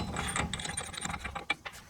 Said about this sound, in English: let's go ahead and get this axle nut tightened down